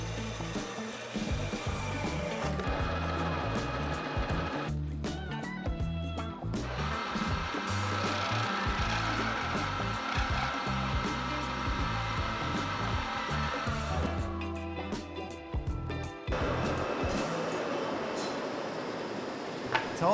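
A lathe spins steel for friction-welded Damascus, producing a loud, continuous grinding and rumbling drone with a strained motor tone, broken twice by brief shifts where the noise thins before the harsh roar returns.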